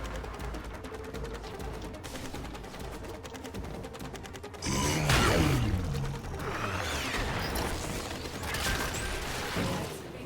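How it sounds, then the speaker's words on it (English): Mechanical ratcheting and whirring as an excavator deploys in Warframe, a steady clicking gear rhythm that shifts into a louder swooshing, grinding burst midway, with no talk. "Excavator deployed."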